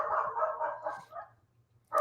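A dog barks in a quick run of yips and barks indoors, fairly close, with a short pause before one more bark at the end.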